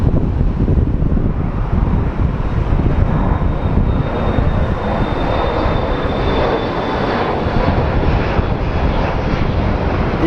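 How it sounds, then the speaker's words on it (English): A KC military refueler jet, a re-engined Boeing 707 type, flies over near an airport with a loud, sustained engine roar mixed with wind buffeting on the microphone throughout. "It's one of our KC military refuelers."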